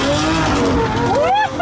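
A rebuilt Lamborghini Aventador driven fast in paddle shifter mode, its engine roaring loudly with rising revs and a quick upshift sweep, close and continuous, with voices mixed in.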